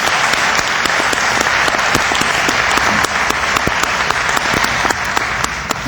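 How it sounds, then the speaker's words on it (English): A large crowd at the 24th Annual Muslim Convention applauds loudly and without a break, with crisp individual claps standing out from the dense, sustained clapping of the hall. "Let's give another round of applause, please"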